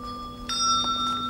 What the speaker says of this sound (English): Ring out wild bells.